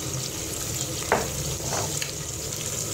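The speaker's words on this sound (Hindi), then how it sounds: "अब मैं इसे तेज़ आंच पे अच्छे से भून लूँगी" Spices, green chillies, turmeric, salt, red chilli and ginger-garlic paste fry on high heat with a continuous close sizzle and a couple of brief stirring clinks, and no one speaks.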